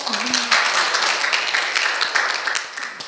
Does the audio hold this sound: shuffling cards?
no